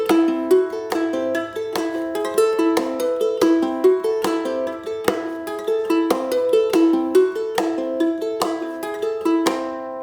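A ukulele is played with percussive taps and strums in a repeating rhythmic pattern, bright plucked chords punctuated by sharp knocks on the body, close and clear with no voice.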